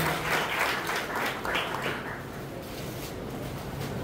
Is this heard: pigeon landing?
no